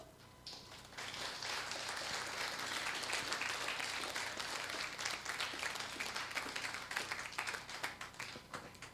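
Seminar audience breaking into applause, a dense, sustained roar of many hands clapping that rises quickly and holds for several seconds, loud and unbroken, then begins to thin near the end.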